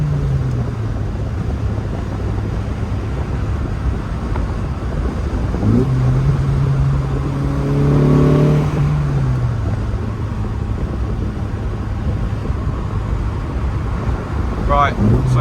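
Lotus Elan restomod pulling hard in third gear, the engine note rising and swelling as the throttle opens, heard from inside the car under heavy road and wind roar.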